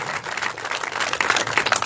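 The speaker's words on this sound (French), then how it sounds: "merci pour les applaudissements." Audience applause at a political rally protesting the Waumbushu operation and the Azali government, a dense wash of clapping that swells slightly toward the end, steady and fairly loud with no talk over it.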